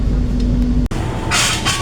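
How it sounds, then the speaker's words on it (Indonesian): Cikuray economy train with stainless steel coaches arriving at Cibatu station, a steady loud rumble of rolling wheels with a brief dropout, then bursts of hissing brake air near the end. "saat ini kereta api Cikuray telah sampai dan tiba di stasiun Cibatu"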